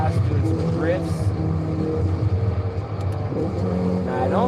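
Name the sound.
car engine cruising in video game Forza Horizon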